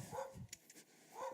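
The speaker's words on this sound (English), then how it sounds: "There's like a bunch of dogs and barking and everything." Dogs bark in a busy park after rain, a couple of moderately distant woofs bracketing a brief pause, with no talking over them.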